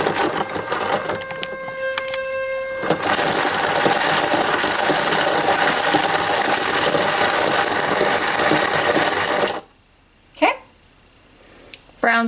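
A yarn winder spins yarn into a yarn cake with a steady, close mechanical whirr and ratcheting rattle that runs for several seconds and then cuts off abruptly, leaving a few faint handling sounds.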